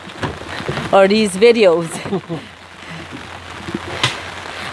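Soft, steady rain patter on the Essequibo River at Wakenaam Island, Guyana, fills the background while people talk briefly over it.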